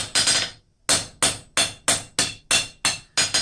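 A blacksmith hammers hot steel while forging a ram's head, drawing it out and shaping the face. Loud, close metallic blows land in a steady rhythm of about three per second after a brief pause, with no talk.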